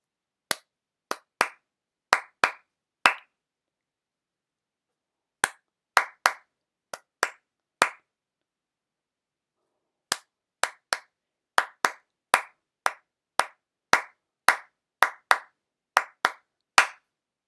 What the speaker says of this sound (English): I am now going to clap this rhythm for you.